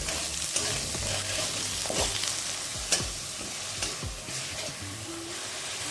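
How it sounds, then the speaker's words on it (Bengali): A tomato fries with a little salt in a pan, giving a steady close sizzle with several soft spoon strokes and scrapes as it is stirred. "টমেটোটা দিয়ে আমি এক মিনিট মতো ভেজে নিয়েছি"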